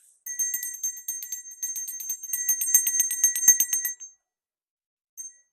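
A small bell rings repeatedly in quick, bright tinkling strokes for about four seconds, close and clear, then stops, with one last short ring after a brief pause.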